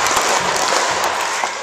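A school assembly of children claps together in a dense burst, with a few distinct group claps standing out over the crowd noise.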